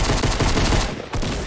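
Rapid shotgun blasts from a video game firefight ring out loud and dense, a brief drop near the end before the barrage resumes.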